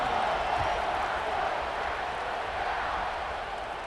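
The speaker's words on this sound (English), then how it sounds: "this crowd is buzzing after that last score" Football stadium crowd buzzing before a kickoff in a video football game, a steady distant roar of many voices holding level throughout, with no single cheer standing out.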